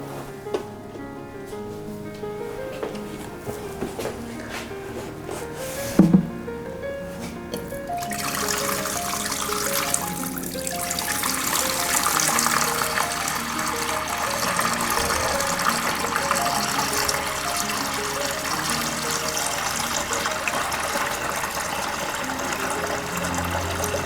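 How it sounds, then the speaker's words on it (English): Water pours into a small DIY nano paludarium with a waterfall, beginning with faint trickling and a brief knock, then swelling into a steady, close splashing gush that runs continuously to the end. "So I'm going to add a little bit of water."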